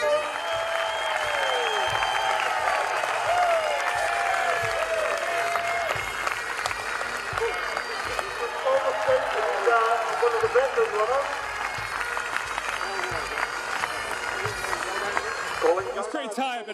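A stadium crowd at a Highland games in Braemar cheers and applauds in a dense, continuous roar, with voices and tonal calls weaving through the noise throughout.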